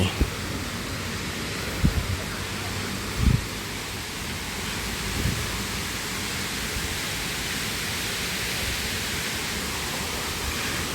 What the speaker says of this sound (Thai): ด้านบนของน้ำตกไซโยกน้อยนะครับ มันก็จะประมาณนี้แหละ